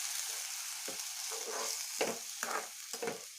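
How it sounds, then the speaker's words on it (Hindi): Spiced masala fries in oil to make a gravy for egg pakora kadhi. A steady, close sizzle is broken by repeated rhythmic stirring scrapes, with no talking. "ग्रेवी के लिए मसाला मैं फ्राई कर रही हूँ"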